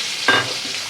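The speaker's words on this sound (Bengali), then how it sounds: "দেখো পেঁয়াজটা ভাজি" Chopped onions sizzle in a hot pan after fish has been fried in it. A steady close frying hiss is broken by a couple of stirring scrapes.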